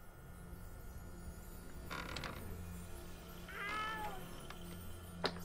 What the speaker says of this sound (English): Sound like a cat right now.